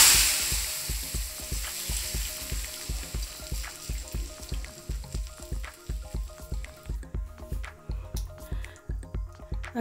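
Hot tempering poured into mango pulissery, a Kerala sadya curry, bursts into a sharp sizzle that fades within seconds, followed by a steady rhythmic series of soft knocks and bubbling.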